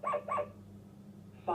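A toy's recorded dog gives two quick barks close together, followed by a short hum of electronic background.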